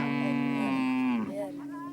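A Maasai cattle herd lows as one cow lets out a long, loud, close moo that slides downward and trails into a second, quieter call.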